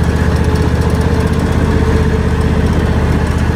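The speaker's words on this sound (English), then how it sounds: "Been mowing this open again." A lawn mower engine runs at a steady, loud, close drone while mowing an open field, with no change in pitch and no one talking.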